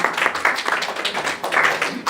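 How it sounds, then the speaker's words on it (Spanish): Audience at a church conference applauding to welcome a speaker, a dense steady patter of many hands clapping close by. "Recibimos a Mariceli con un fuerte aplauso."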